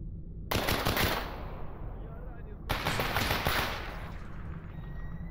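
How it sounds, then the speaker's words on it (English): Two loud bursts of automatic gunfire from STALKER, an Iron Sights mod firefight with shots fired through a wall, each burst roaring for about two seconds before trailing into quieter echo. "He just shot me through the wall."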